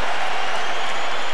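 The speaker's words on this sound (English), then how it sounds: "Crowd is up." A boxing arena crowd on its feet during a heavyweight bout, cheering and applauding in a dense, steady roar of voices and clapping that fills the short moment without a break.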